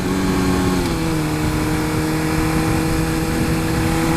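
A superbike engine drones loud and close in a steady high-revving pull as the rider passes a Honda CR-V, its pitch dipping slightly and then holding, with no talking.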